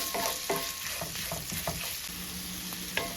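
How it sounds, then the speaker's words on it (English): Breakfast sausage sizzles and fries in a greased pan, with a steady crackle under repeated scraping strokes of a utensil stirring and breaking up the meat, close and moderately loud. "So I'm cooking it, like I said, just half of the breakfast sausage. I did add a little bit of grease to the pan."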